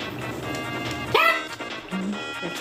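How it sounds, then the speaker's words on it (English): A dog barks and yips in the background, a couple of sharp bursts over an ongoing game soundtrack and talk. "I'm sorry for the dog that won't stop and won't just be quiet in the background"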